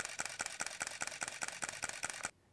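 A Canon SL2 (200D) or Nikon D5600 DSLR shutter fires in a rapid burst of about ten evenly spaced clicks over roughly two seconds at 5 frames per second, then stops.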